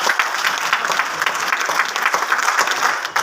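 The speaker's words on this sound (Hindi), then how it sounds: "एक बार तालियां होनी चाहिए गुरलाल सर के लिए" An audience applauds guests being welcomed onto a stage: thick, continuous clapping from many people, loud and close, holding steady throughout.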